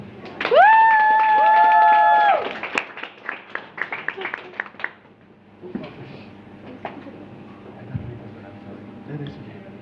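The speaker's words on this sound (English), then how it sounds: "Big applause." A long drawn-out vocal cry, then a short burst of scattered hand claps from a small group, followed by talking.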